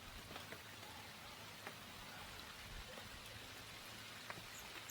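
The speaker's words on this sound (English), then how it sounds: "It's literally just started raining." Steady light rain falls outdoors at a fishing lake, a soft continuous patter of drops on surfaces with no talk.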